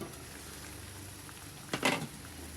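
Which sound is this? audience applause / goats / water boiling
water boiling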